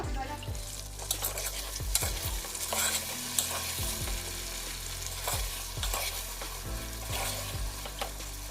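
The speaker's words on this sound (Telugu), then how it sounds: "ఆయిల్లో మగ్గాలి మధ్య మధ్యలో కలుపుతూ ఉండాలి" Brinjal pieces sizzle steadily in hot oil over a medium flame while a utensil stirs and scrapes the pan, with occasional clinks.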